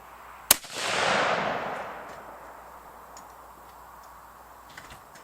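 A single sharp report from a budget rifle during accuracy testing, followed by a broad fading echo and then a few faint ticks outdoors.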